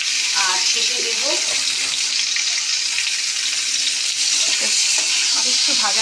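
Vegetables with green chillies and tomato frying in a pan, a loud continuous sizzle with stirring scrapes and a voice speaking briefly over the start.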